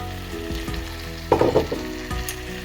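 Chicken pieces hit a pan of cooked-down spice masala and sizzle, with a burst of louder crackling and a few scraping stirs, close and fairly quiet, no voices.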